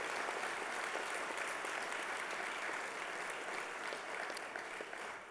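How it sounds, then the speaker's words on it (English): Volunteer awards ceremony crowd delivers a continuous round of applause, a thick wash of clapping from many hands held steady, tapering slightly at the very end. "So let's have a round of applause for Jeff."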